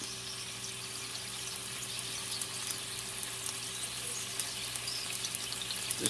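White wine reducing in a pan for a beurre blanc, a steady, even bubbling sizzle that holds close and moderately loud throughout, with no voices.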